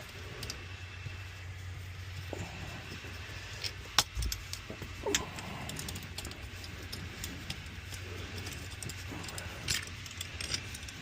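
A steady, close electric whir from a portable neck cooler fan runs throughout, with occasional small clinks and rattles on top.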